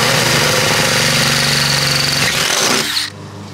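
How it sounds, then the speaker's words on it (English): A reciprocating saw chatters rapidly as its blade cuts a hole through sheet metal for a window fan install, a loud, close, buzzing rattle that runs for about three seconds, then stops. "Couple of things you wanna remember when you're cutting a hole in metal."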